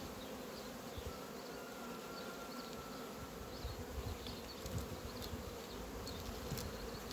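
Dense, continuous buzzing of many honeybees in a hive fills the air, a steady droning hum with occasional louder passes close by.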